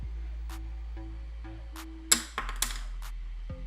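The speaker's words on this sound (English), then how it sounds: "Let me drop the pencil." A pencil clatters onto a hard surface, one sharp impact followed by a couple of quick bounces, close by over a steady low hum.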